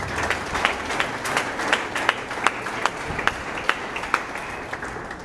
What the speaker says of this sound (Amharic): አጨብጭቡ እስቲ